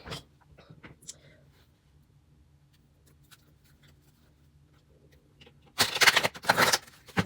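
A quiet stretch of faint rustling and small taps, then a loud, close riffle shuffle of a deck of cards bursting out near the end.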